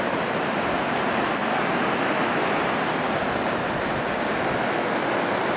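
A river in Mtirala National Park, Adjara, rushes steadily with a dense, unbroken roar of flowing water, loud and close throughout with no voices.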